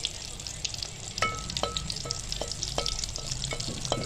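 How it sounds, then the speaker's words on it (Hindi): Rose flower snacks fry in oil on slow heat. A continuous close sizzle runs underneath, with repeated sharp metallic clinks and scrapes from stirring at irregular intervals. "स्लो हीट पे इन्होंने फ्राई करना, बिल्कुल स्लो,"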